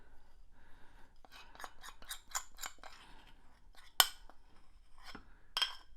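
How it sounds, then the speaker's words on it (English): Spoon scraping sticky, oily tahini into a bowl of homemade hummus, a run of quick rasping scrapes and metallic clinks, close and fairly quiet with one sharper knock midway. "scrape in this tahini"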